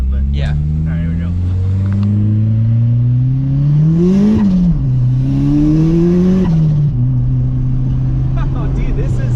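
A car pulls hard under acceleration with its wheels spinning, the engine note climbing steadily through several gear changes, loud and close, with people talking over it.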